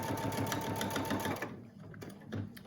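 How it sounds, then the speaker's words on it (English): A sewing machine runs steadily, stitching close to the edge of layered fabric on a surgical mask, its rapid even whir filling the first half before stopping and leaving quieter handling noise. "I'm sewing close to the edge"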